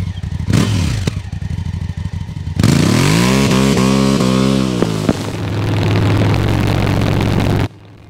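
Yamaha XVZ 1300 V4 Royal Star cruiser, a 1300 cc V4, starting up and then idling and revving, loud and close with rising and falling engine pitch before cutting off abruptly.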